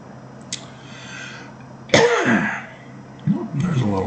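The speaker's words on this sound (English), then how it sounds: "a little cough." A single short, small cough breaks in partway through, between stretches of someone talking.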